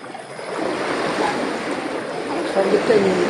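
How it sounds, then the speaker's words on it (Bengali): Someone wades through floodwater in Ghatal during the 2025 flood, a close continuous slosh and swirl of water with voices faintly beneath it. "জল ঠেলে কোনো রকমে এগিয়ে চলেছি"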